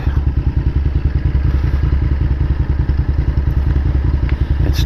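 A motorbike being ridden throbs with a loud, close, steady engine beat, its rapid regular pulses continuing without a break and no voices over it.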